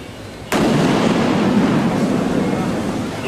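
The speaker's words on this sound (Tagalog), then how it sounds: "Kinuha ng robot ang bomba saka ito pinasabog." Simulated bomb detonated by an EOD robot in a counter-terrorism exercise: one sudden loud blast followed by a sustained roaring rumble that fades slowly over a few seconds.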